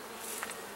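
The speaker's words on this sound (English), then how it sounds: "There's a lot of bee activity" Honeybees hum faintly around an open hive as the beekeeper inspects the frames, giving a brief, soft, steady buzz with no talk.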